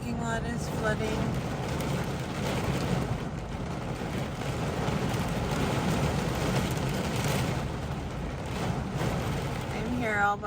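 Heavy rain pounds down in a severe Houston thunderstorm, with wind buffeting a parked truck in a flooding lot; a steady dense roar of rain fills the whole stretch, close and loud, with faint rumbles beneath.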